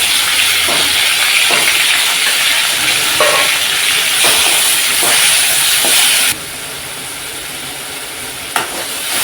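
Tomatoes and onions sauté in oil for a Kovai-style dried fish curry, making a loud, steady frying hiss with scattered stirring clatter. It drops abruptly to a quieter sizzle near the end.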